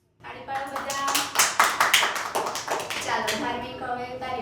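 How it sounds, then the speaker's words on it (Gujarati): Young children at an anganwadi clap together in a quick, uneven burst of close hand claps that fades into scattered taps, with voices in the room. "તાળી પાડો બધા."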